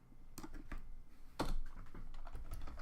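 Someone types Rust code on a computer keyboard, a quiet, irregular run of close key clicks with a slightly louder burst of presses in the middle.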